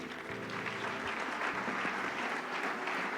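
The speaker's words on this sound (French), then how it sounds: "On acclame pour eux." A church congregation applauds in a steady, dense burst of clapping that fills the room, with a low hum or music tone running underneath and no talk over it.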